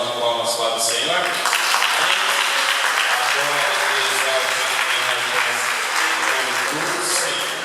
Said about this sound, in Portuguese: Pode dar uma linda salva de palmas para o Senhor.